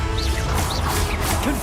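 A wizard's disarming spell is cast in the Hogwarts Legacy video game, giving a short crash-like magical whoosh and impact within a busy, dense stretch of game sound effects.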